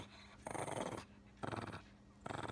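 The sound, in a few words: pet dog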